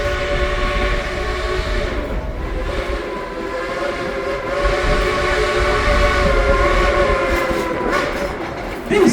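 Dollywood's Cinderella train rumbles along its track with a steady rolling drone and sustained whistle-like tones, close and continuous throughout.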